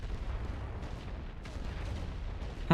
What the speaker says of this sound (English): Diese Position mit Sperrfeuer belegen.